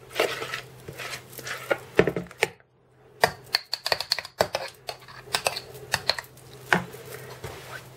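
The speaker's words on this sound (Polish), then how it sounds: "zamrożone musimy pokroić" Knife blade cutting through frozen homemade vegetable stock cubes on a board, a run of quick, sharp clicking chops with a brief pause, close and fairly loud.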